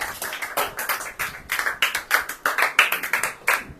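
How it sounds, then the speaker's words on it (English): An audience clapping for a child, with bursts of hand claps in an uneven, lively rhythm, close and fairly loud with no talk. "So please clap."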